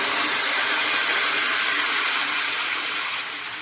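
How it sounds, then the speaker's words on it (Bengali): Water poured into a hot pan of simmering Bengali snail curry (guglir jhal) gives a loud, bright, steady hissing sizzle that eases off slightly toward the end. No one speaks over it. "জল দিয়ে দিচ্ছি।"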